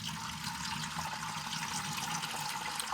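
Water pours and splashes steadily out of a flooded Silverado transfer case, a continuous close gushing trickle with no talk.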